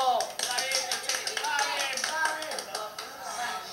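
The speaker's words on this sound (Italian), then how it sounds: "un applauso!" A crowd of classmates at an Italian technical school applauds a cook, with steady rapid clapping close by. Voices talk loudly over it throughout.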